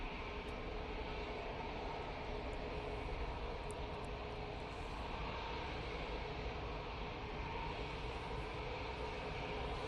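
Jet roar of an easyJet Airbus A320 departing Manchester Airport for Belfast, a steady loud broadband rumble filling the whole stretch without letup.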